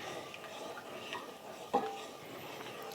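Quiet scraping and stirring of sauce in a cast iron pan, with soft utensil scrapes, a faint background sizzle and one sharper metallic clink partway through.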